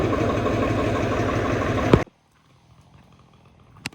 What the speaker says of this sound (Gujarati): ભાઈ ટ્રેક્ટર લઈને આવી ગયા